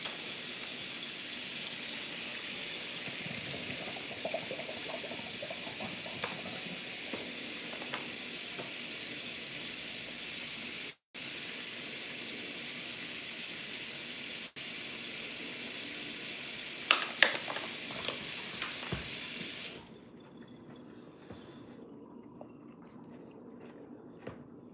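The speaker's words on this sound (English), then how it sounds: "I always rinse my stuff off." Fruit and vegetables rinsed under running tap water, a steady loud hiss of flowing water with faint handling clatter, lasting about twenty seconds before cutting off to near silence.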